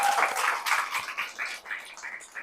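A crowd of young adults at a church youth gathering claps together, a dense steady patter of applause lasting a couple of seconds, moderately loud.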